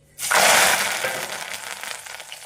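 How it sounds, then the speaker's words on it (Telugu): Curry leaves and sliced garlic cloves hit hot oil for a gongura chutney tempering, bursting into a loud, close sizzle that settles into a steady crackling fry. "అదే నూనెలో కరివేపాకు ఐదారు వెల్లుల్లి రెబ్బలు కట్ చేసుకొని వేసుకోవాలి"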